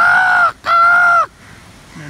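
Comedian Yubaraj Bhandari calls crows outdoors by imitating their caw with his voice, giving two loud, drawn-out, nasal caws in quick succession, then falling quiet.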